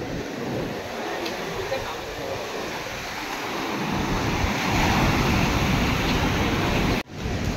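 Surf at high tide on Anjuna Beach, Goa, rolls in as a steady broad wash of breaking waves with wind buffeting the microphone, swelling louder midway before a brief dropout near the end.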